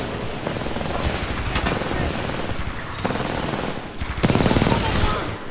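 Rapid automatic gunfire from the video game Titanfall 2, loud sustained bursts of shots with a heavier volley near the end and faint game voices underneath.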